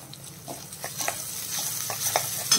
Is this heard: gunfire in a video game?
no